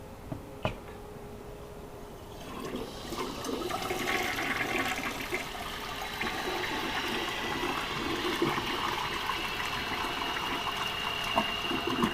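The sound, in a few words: toilet tank flushing and refilling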